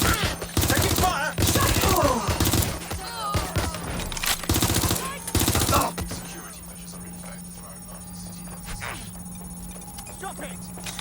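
Rapid volleys of gunfire erupt in Watch Dogs: Legion, several loud bursts in the first half over chattering voices, then fading to a quieter backdrop with a steady hum and scattered faint sounds.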